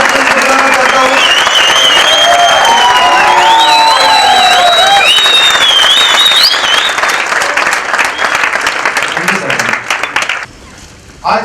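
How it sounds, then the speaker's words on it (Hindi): A large audience applauds loudly to welcome Dr Jayesh Patel onto the stage at a 7 December 2013 event, with sustained dense clapping, whistles and whoops that carry on for about ten seconds before dropping away abruptly. "एक बार जोरदार तालियों के साथ में बुलाना चाहता हूं"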